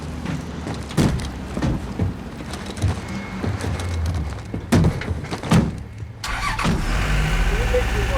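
Military trucks in the Modern Warfare campaign start up amid door clunks and engine turnover, then settle into a low idling rumble, with voices speaking over parts of it.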